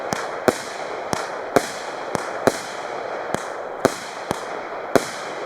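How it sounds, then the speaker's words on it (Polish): Fireworks shoot high and burst with gold glitter effects, a string of sharp cracks at irregular intervals, each trailing into a crackling hiss, heard from a moderate distance. "ładne złoto, migotanko. Dość teraz wysoko strzela."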